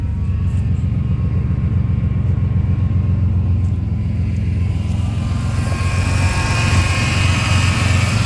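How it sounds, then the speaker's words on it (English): A project car's engine idling steadily with a low, continuous rumble that holds even throughout, loud and close, with no talking over it. "It's gonna stay here and idle."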